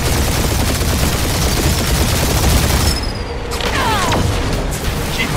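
Sustained gunfire barrage in the Guardians of the Galaxy video game during the Captain Glory and World Mind fight, a dense, loud continuous roar of rapid shots and booms that thins slightly near the end.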